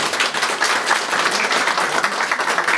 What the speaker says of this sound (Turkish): Murat Şahin'e ve yönetimine kuvvetli bir alkış istirham ediyorum